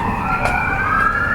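Emergency sirens of a police car and ambulance rushing toward a highway in a Czech city, a loud wailing tone rising and holding steady close by, with traffic rumble underneath.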